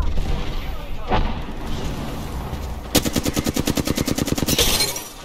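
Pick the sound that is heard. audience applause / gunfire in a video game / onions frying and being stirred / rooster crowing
gunfire in a video game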